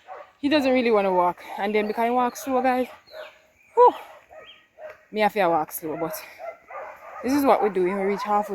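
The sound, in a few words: dogs barking in the background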